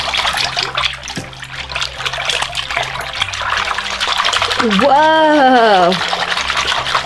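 Disney Frozen bubble bath pours into bath water with a steady trickling, splashing wash, and a voice cries out in delight partway through.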